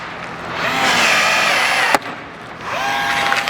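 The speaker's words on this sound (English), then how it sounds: "and then rivet it in." A rivet tool whirs as gutter mounts are riveted onto the roof of a 2021-or-newer Ford F-150 SuperCrew. There is a steady buzzing run, a sharp snap near the middle, then another whir.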